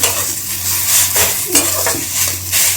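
Pav bhaji filling being stirred in a pan, a spoon scraping and clinking against the metal in quick bursts over a faint sizzle, close and fairly loud with no talking.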